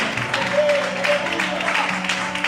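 A church congregation claps for the Lord during a Christmas sermon, a steady dense wash of applause lasting the whole moment with voices mixed in.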